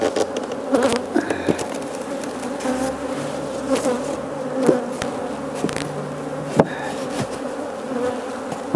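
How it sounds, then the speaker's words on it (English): A dense, continuous buzz of many honeybees swarms close around a hive entrance, punctuated by a few light taps and knocks, with no talking. "all these bees wanting in here"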